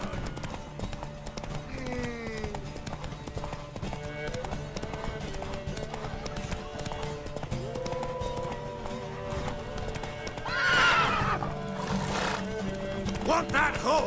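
In The Witcher 3 video game, a horse clip-clops with a steady hoofbeat under background music and game sounds, and a neigh rises near the end.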